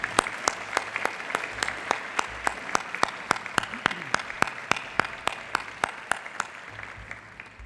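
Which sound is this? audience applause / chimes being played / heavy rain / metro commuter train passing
audience applause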